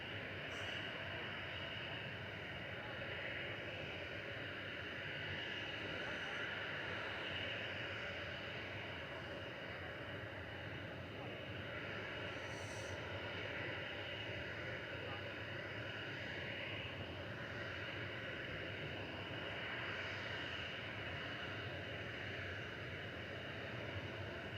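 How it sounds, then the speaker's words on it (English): Ryanair Boeing 737-800 jet departing Manchester Airport, a broad steady engine roar heard from a distance, sustained and even without a clear rise or fade. "Ryanair to Marrakesh going next. This is flight 3126, operated by 737-800 GRUKA."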